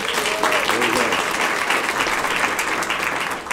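Lecture audience at the Wilma Dykeman Stokely Lecture applauding, steady dense clapping that fills the room at even loudness throughout and fades slightly at the end.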